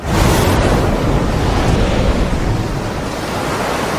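Surging sea waves crash and roll in a loud, continuous broadband wash of surf that stays steady throughout with no voices.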